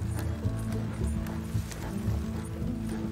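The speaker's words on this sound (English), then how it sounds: "Slow down. You'll burn out the horses." Horses in the Western video game Red Dead Redemption 2 clip-clop at a steady pace, a dense rhythmic patter of hooves under a low rumbling background.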